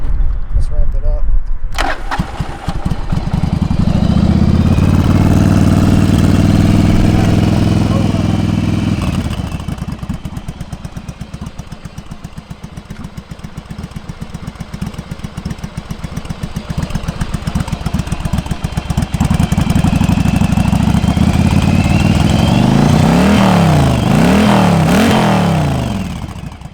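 A 1997 Yamaha Virago 1100 motorcycle engine runs loud and close with the choke off, idling steadily before being revved repeatedly in rising and falling bursts near the end.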